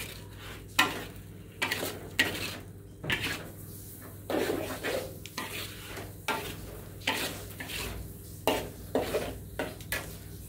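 Repeated scraping and clattering of a utensil stirring food in a pan over a steady sizzle, with irregular knocks against the metal.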